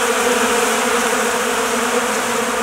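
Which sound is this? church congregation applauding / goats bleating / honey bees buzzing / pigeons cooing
honey bees buzzing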